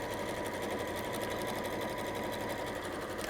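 A sewing machine satin stitching the edges of a tote bag, running as one steady, fast mechanical whir with rapid even needle ticks, close and constant for the whole stretch, with no voices.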